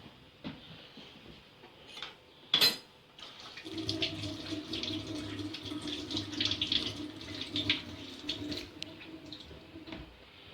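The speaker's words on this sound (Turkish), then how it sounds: "Şöyle ben elimi yıkayayım yine." A tap is turned on for hand washing, and water runs steadily into a sink after a sharp clack, splashing close by for several seconds.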